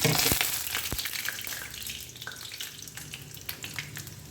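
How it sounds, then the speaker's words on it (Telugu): Dried red chillies and lentils fry in hot oil for a tempering, with a dense crackling sizzle and sharp pops, loudest at first and easing slightly, with no talk. "ఆవాలు వేగిపోయాయి ఇప్పుడు ఇందులో ఎండుమిర్చి మినప్పప్పు వడపప్పు వేసుకునేది"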